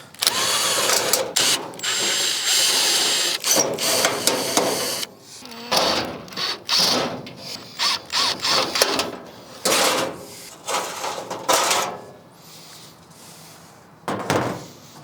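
Screws are driven out of a metal chimney top cap with a power tool, giving repeated ratcheting whirs and clanks in bursts of varying length, with knocks and pauses between.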